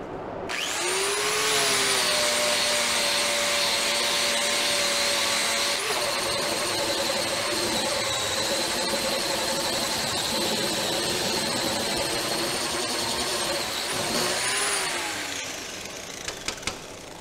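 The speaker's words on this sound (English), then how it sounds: "Try to grind some of this down" A grinder working down the dirty surface of a welding table, with a steady, loud, high-pitched whine held without a break for about thirteen seconds before spinning down, close by.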